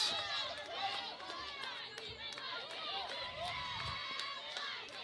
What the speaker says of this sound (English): the crowd is definitely up over here on the third base side in the dugout in Walters State, jumping up and down, screaming and hollering